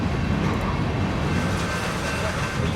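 A train sits stopped at a railway crossing, giving a steady, loud, broadband rumble with a faint ringing tone throughout, heard close and unbroken.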